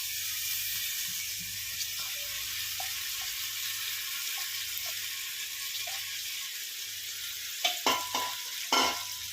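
Egg rice mixture with goda masala sautéing in a pan, a steady soft sizzle throughout, faint utensil taps, then a few louder scrapes and clanks near the end.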